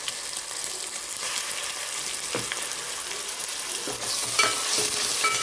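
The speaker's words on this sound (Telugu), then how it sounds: "ఎర్రగా వచ్చినాక కాగినాక ఎర్రగడ్డలు దాంట్లో అల్లం వెల్లుల్లి పేస్ట్ వేయాలి." Onions with ginger garlic paste frying in hot oil for a fish curry, a steady close sizzle with occasional stirring scrapes and small pops, no talking.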